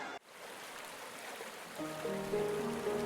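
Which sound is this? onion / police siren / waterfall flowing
waterfall flowing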